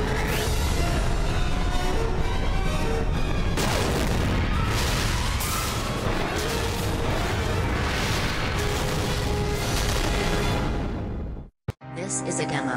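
An incendiary device blowing up in a Spider-Man cartoon, a loud sustained roaring blast with crackling debris that rumbles on for several seconds before cutting out abruptly.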